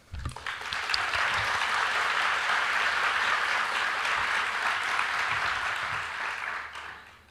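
A conference audience at a plenary session claps to welcome a speaker, with dense, sustained applause that swells quickly, holds steady for several seconds and then tapers off, and no voices over it.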